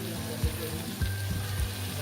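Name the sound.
brinjal frying in pan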